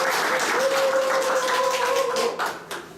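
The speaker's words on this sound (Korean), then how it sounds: "큰 박수 부탁드립니다. 큰 박수." Audience applause at the opening of a photo exhibition, a steady wash of clapping with a faint voice through it that thins out and fades after about two and a half seconds.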